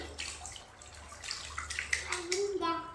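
Water splashes and trickles as it is poured over a child's head during a bath, soft and close, with a voice and chatter mixed in.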